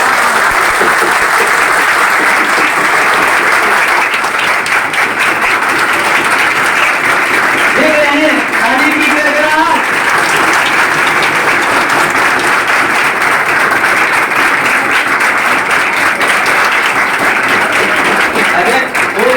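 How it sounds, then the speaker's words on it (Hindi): Loud, sustained applause from a crowd of students fills the whole stretch, dense and steady, honouring their coaching teacher in Begusarai after their CTET exam success, with voices mixed into the clapping. "अनु सर, इनके लिए जोरदार ताली।"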